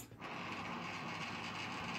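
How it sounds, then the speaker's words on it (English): An antenna rotor motor hums and whirs steadily, a continuous mechanical grinding drone at moderate level with no voices. "that the rotor is actually turning."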